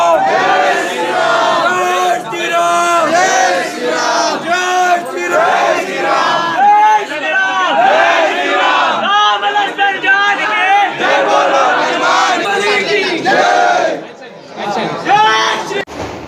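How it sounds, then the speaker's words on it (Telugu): A large crowd at a Rama temple chants and shouts Jai Shri Ram together, a loud, continuous wall of voices with rising and falling calls that briefly drops away near the end. "టెంపుల్ మొత్తము జై శ్రీరామ్ జై శ్రీరామ్ అనే వినాదమే వినబడుతుందండి"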